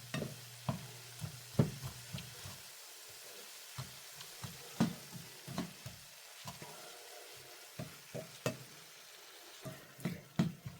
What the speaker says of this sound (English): Okay, he's going to keep stirring that